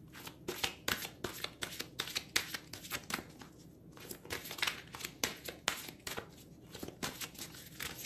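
Tarot cards are shuffled by hand in a rapid, uneven series of crisp riffling and slapping bursts. The sound is close and quiet, with no voices.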